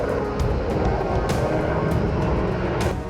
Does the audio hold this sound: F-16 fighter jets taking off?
yes